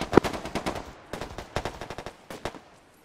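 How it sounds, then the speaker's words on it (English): Bursts of automatic gunfire from a military video game, loud and close, with rapid rattling volleys and short gaps between strings of shots. "Where you're getting shot from?"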